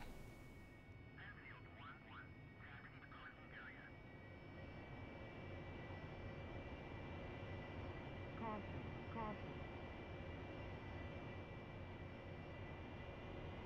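An AV-8B Harrier jet taxiing in the DCS flight simulator gives a steady, quiet engine whine and rumble, with a few faint clicks and chirps over the hum.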